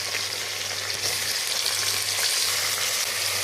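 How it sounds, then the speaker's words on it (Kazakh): Meat and carrots sizzle steadily in a hot pan, a dense continuous frying hiss with occasional stirring, close and fairly loud with no talk. "Енді қызартып әбден дәмін шығарып қуырамыз"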